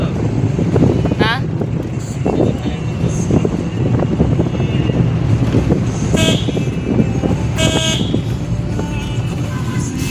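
A vehicle horn toots a few short times while driving along a winding forest road near a village, over steady wind and engine rumble, with people talking throughout.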